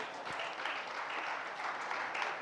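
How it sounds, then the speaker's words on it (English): An audience at a sports conclave applauds a guest, with dense, steady clapping at moderate distance that holds evenly for a few seconds. "Can we have a huge round of applause for Alvin?"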